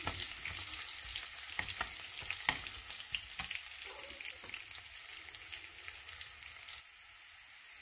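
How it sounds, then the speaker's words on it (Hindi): Garlic sizzling and frying in hot oil with cumin seeds for an Indian zucchini sabzi, a steady crackling hiss with occasional stirring clicks, close and continuous with no talking. "अब मैं इसमें डालूँगी लहसुन। इसे मैं हल्का गोल्डन करूँगी।"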